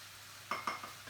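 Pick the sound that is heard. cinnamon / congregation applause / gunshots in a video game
cinnamon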